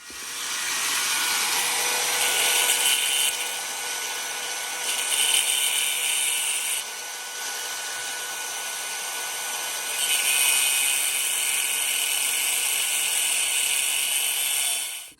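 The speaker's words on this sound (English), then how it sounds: "Do we have a cutoff wheel over here?" Abrasive cutoff wheel grinding through metal in a garage during work on a Tremec TKX transmission swap into an Oldsmobile Cutlass, a steady loud high-pitched screech running nearly continuously with brief dips as the cut proceeds.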